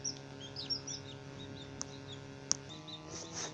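Thin, high peeping chirps from a rescued pigeon chick, repeated in short faint bursts over a low background hum, with a couple of sharp clicks.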